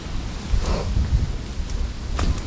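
Steady, loud wind buffets the microphone with low rumbling gusts near a small house with fallen poles, a continuous roar with no voices.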